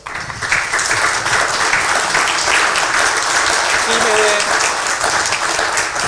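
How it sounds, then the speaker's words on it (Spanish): An audience at a public forum applauds the speakers, with steady dense clapping that fills the room for several seconds and stays loud and even throughout. "me gustaría primero que le den un aplauso a los expositores"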